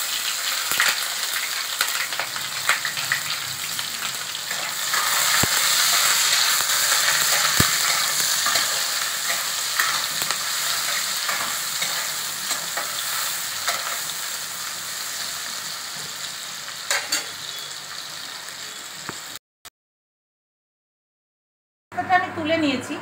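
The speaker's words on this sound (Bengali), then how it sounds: "পেঁয়াজটা বেরেস্তা করে নেব।" Onions frying in a pan until deep brown, for chicken dak bungalow curry: a steady loud sizzle with occasional stirring scrapes, under a voice, ending in a brief silence.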